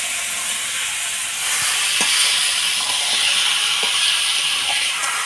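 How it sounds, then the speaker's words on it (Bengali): Chicken pieces sizzle loudly as they are stirred into a spice paste in a hot pan, a dense steady frying hiss with occasional soft scraping taps from the stirring. "মাংস দিয়ে ভালো করে মশলার সাথে নাড়াচাড়া করে নেব"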